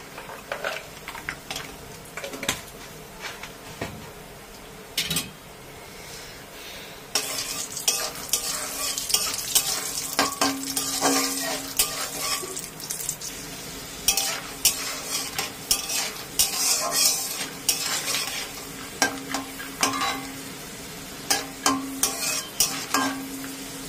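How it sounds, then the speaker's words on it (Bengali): Raw peanuts fry in hot oil in a wok with a steady close sizzle and frequent scraping, clinking stirs. It starts quieter and grows busier and louder after a few seconds, with no voices. "এখন ওই তেলের মধ্যে আমি কিছুটা কাঁচা বাদাম ভেজে নেব"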